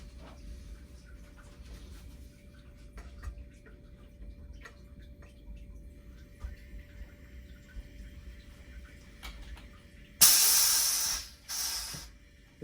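Gas rushes into a Fermzilla fermenter to pressurize it, giving a loud hiss in two close bursts, the second shorter, after a stretch of quiet ticking and room hum.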